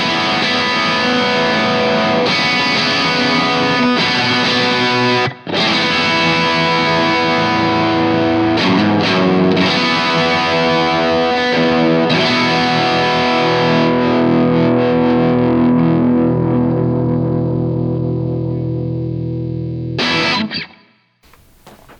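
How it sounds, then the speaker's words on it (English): A lightly overdriven 1960s Epiphone Olympic electric guitar strums chords that ring out, a steady crunchy tone for about twenty seconds before a final chord fades out. "we're heading towards a more, not clean, but like lightly driven guitar sound"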